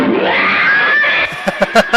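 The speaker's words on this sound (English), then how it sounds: "the Foley guy just grabbed a cassette labeled cat" A shrill, drawn-out screech like an angry cat, a movie Foley effect, followed by several short, sharp yowling bursts.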